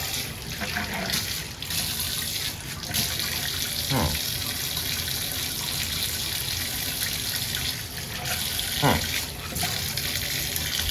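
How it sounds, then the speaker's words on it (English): Water runs steadily into a clogged shower drain for several seconds, a continuous rushing splash that stays even in volume from start to finish. "we're going to run some water and see what happens here"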